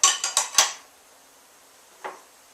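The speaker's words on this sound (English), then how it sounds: "Now I need the tongs to get the rest of that garlic out of this remedy." Metal kitchen tongs fishing garlic out of a cooking pot: three quick, bright clanks in a row, a pause, then one softer clink, close and alone.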